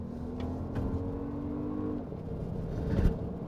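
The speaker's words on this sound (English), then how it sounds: "that four-cylinder has a good rumble to it" A 2025 Toyota Grand Highlander's four-cylinder engine rumbles, a loud, steady drone that swells and revs briefly near the end.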